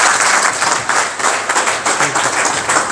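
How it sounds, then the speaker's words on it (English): A banquet audience at an annual Islamic council dinner gives loud, close applause, a dense burst of clapping hands rising and falling in waves for about three seconds. "Give him a big round of applause."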